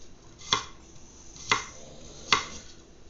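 A freshly sharpened kitchen knife chops through food, likely garlic, on a cutting board for a sausage stir fry, landing three distinct, evenly spaced chops that ring out sharply over a quiet room.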